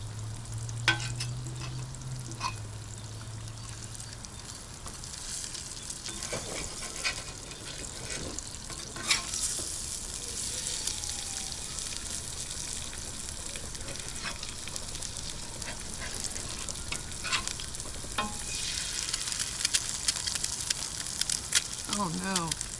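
Eggs fry on a griddle with a steady soft sizzle, broken by occasional scraping and clinks of a utensil and someone speaking now and then.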